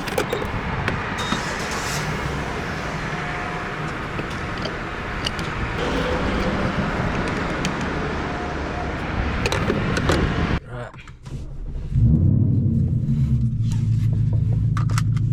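A lowered 2024 Mustang GT drives along the road with a steady low engine rumble and road noise, then goes briefly quiet near the end before a deeper idle-like drone returns, close and continuous, with occasional talk.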